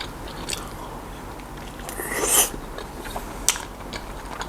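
Close-up biting and chewing of Thai chili paste with mackerel and boiled egg, soft wet crunches and chewing with a few sharp crisp bites standing out, heard intimately without talking.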